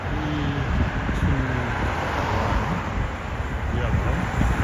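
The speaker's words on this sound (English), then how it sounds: "Car's going through the yellow." A car passes through a yellow light on a downtown street in Regina in late November, its steady rumble of tyres and engine carrying over constant traffic and wind noise for the whole stretch.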